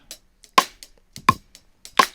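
A sampled hip hop drum break plays back for a neo soul beat: three sparse, punchy hits about two-thirds of a second apart, each with a crisp bright crack and short decay, alone and fairly quiet.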